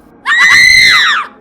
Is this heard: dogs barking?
no